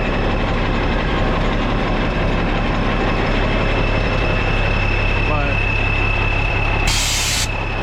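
A 1988 International tandem dump truck diesel engine idling, a loud steady low rumble throughout with a constant drone and a brief hissing burst near the end.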